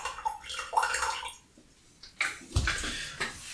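Water for bottling beer pours in short splashy bursts, trickling and gurgling close by with brief pauses between pours, fairly quiet.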